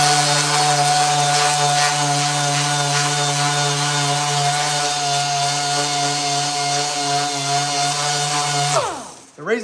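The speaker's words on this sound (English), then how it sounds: "The reason why I'm sanding them before we roll the beads in them, so John don't have to do it after the fact." A power sander runs on 1973-1987 firewall panels, a loud, steady, close-up motor whine held for about nine seconds before it spins down.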